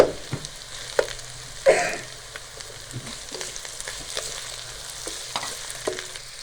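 Softened carrots and capsicum fry in a pan with a low sizzle, punctuated by sharp spatula knocks and scrapes spaced irregularly across the clip.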